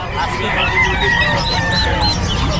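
Bengal chicken chicks at a Bocaue pet market, peeping in a dense, continuous, nearby chorus of high chirps with crowing and clucking from other fowl mixed in and market noise behind.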